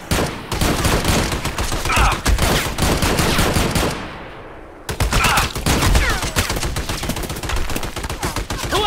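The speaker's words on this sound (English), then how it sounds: "Who else is shooting at me?" Heavy sustained gunfire in a video game, loud close automatic bursts filling the scene, broken by a brief lull near the middle before the shooting resumes just as intensely.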